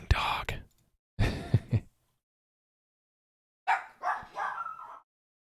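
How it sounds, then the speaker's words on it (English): A pet dog named Mantis barks in a few short, separate bursts, close and fairly loud, with quiet gaps between them, as it greets people arriving home. "Barking dog."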